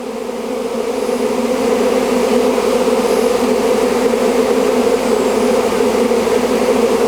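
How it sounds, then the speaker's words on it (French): A swarm of honeybees flies out of a small nucleus hive, a dense, loud, continuous buzzing hum that holds steady throughout, close and alone without talking. "On les voit qui ressortent, elles volent tout autour là. L'essaim ressort de la ruchette."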